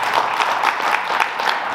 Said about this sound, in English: Can we give all the young people a hand right now?